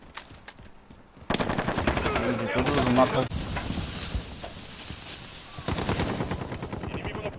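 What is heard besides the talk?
machine gun fire in video game Call of Duty Modern Warfare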